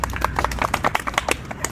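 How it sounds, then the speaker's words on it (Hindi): A group claps for a topper of the Bihar SSC exam, giving a quick run of sharp, irregular claps, moderately close and fairly quiet, with no cheering. "ताली हो जाए"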